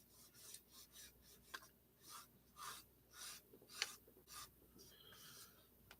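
A pencil scratches short lines on paper while a one-point city perspective is drawn, giving soft, quiet rasping strokes in an irregular rhythm with brief pauses between marks.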